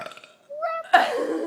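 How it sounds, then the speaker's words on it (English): A person lets out a short throaty burp during a burping contest, close and loud, following a brief vocal sound, with a rough gurgling tail. "I'm Seriously. trying to burp"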